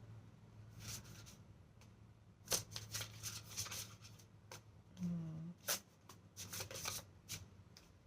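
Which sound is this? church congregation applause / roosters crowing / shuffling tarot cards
shuffling tarot cards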